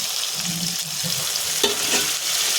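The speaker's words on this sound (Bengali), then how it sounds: "দিয়ে আবারও ভালো করে নাড়াচাড়া করে নেব। মশলাটা ভালো করে কষিয়ে নেব।" Masala frying for a bhetki fish-bone chachchari sizzles with water from washing the spices poured in, while a spatula scrapes and stirs through it in a few close, distinct strokes over a steady hiss.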